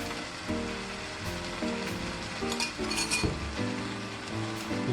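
Chinese fried rice with soy sauce is stirred in a hot pan. A utensil clinks and scrapes against the metal in quick, irregular strokes over a constant sizzle.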